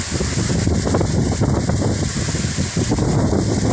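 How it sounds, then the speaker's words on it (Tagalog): Strong northeast monsoon (amihan) wind in the Philippines roars and buffets against the microphone, a constant loud rushing with gusty low rumble. "Lakas ng hangin."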